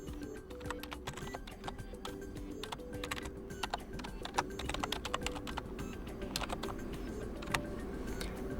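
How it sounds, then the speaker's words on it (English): Rapid, steady keystrokes clatter on a computer keyboard as a password is entered, dense close clicking that continues without pause and with no voice over it. "Here you need to type in your password."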